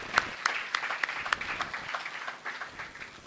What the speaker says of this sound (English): A round of applause for Mr. President.